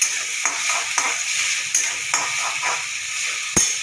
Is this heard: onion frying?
yes